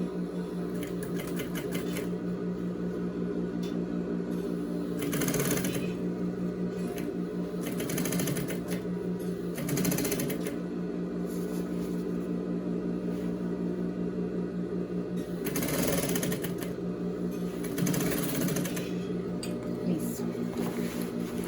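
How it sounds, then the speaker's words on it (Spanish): A sewing machine runs a seam on a camouflage A-line skirt with cargo pockets, a continuous close mechanical hum broken by short louder surges of fast stitching, with no talk. "vamos a coser ahora tratando de que nos quede también al ancho del pie esa costura"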